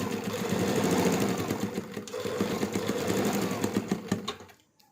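Sewing machine stitching lace onto a black and white designer dupatta, a steady rapid mechanical whirr with rhythmic needle clatter running for several seconds, then slowing and stopping near the end.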